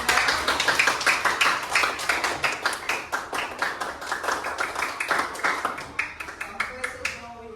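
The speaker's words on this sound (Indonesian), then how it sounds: "Tepuk tangan untuk kelompok 6." Classroom applause for a student group during a coding lesson, a run of brisk clapping from a small group of students that rises and falls unevenly, with a few quick claps trailing off at the end.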